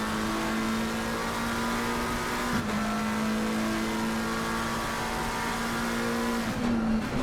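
A race car, including a McLaren in the Shooting Stars Cup at Brands Hatch, holds a loud, steady engine drone with two brief pitch dips from gear changes, close and continuous throughout.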